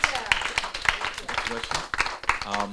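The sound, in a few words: audience applause at a tenant summit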